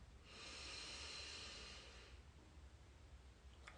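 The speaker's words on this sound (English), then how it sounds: "Breathe in." One long breath drawn in through the nose during a guided breathing exercise at an energy healing session. The airy hiss is faint and close and lasts about two seconds, followed by quiet.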